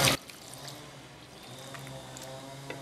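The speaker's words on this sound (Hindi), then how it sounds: "अब इसको पानी से वॉश कर लेते हैं।" Finely chopped potatoes are rinsed with water in a kitchen: a brief splash at the start, then faint sloshing and dribbling in a quiet room.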